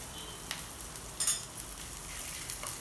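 Chana dal and red chilies fry in a pan, a soft, steady sizzle with light crackles and an occasional stir or scrape of a spoon.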